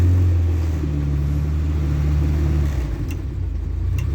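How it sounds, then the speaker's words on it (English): A car with a new near-side front caliper and pads rumbles steadily as it drives to bed in the brakes. The engine note drops and turns rougher partway through, close and loud, with no voices. "Just going to see if I can bed in the new brakes"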